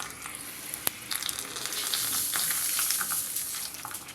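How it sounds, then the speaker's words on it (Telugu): Hot tempering poured into curd-soaked vermicelli for semiya curd rice gives a close, steady crackling sizzle with a sharp pop near the start, building and holding loud throughout. "ఈ పోపుని సేమియాలో వేసేసుకోవాలి"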